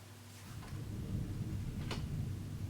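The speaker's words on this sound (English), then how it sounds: "We're having thunder. There's like a storm coming." Distant rumble of thunder from an approaching storm, a low steady roar throughout with a brief brighter crack near the middle, no talking.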